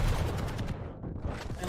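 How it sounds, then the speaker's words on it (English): Quake rocket launcher fire in a competitive match: dense, loud blasts and weapon noise that dip briefly in the middle before rising again, with no voices heard. "Pasita gets that frag by rocket launcher"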